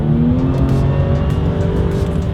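A 2018 Jaguar F-Pace S accelerating hard in dynamic sport mode, its engine heard from inside as a loud, steady roar with climbing pitch and no pauses.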